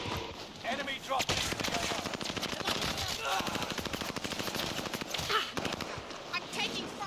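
Rapid automatic gunfire in a shooter video game, dense rattling bursts throughout, close and sustained, with a voice talking underneath.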